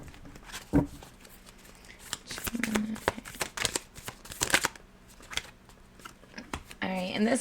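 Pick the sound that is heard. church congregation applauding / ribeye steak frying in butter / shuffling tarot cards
shuffling tarot cards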